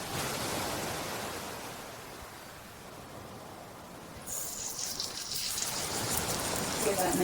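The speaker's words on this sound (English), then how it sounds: "Give that nice sizzle." Pancake batter for baby food sizzling in hot oil in a pan: a steady broadband hiss that turns brighter and crackling partway through, close and moderately loud.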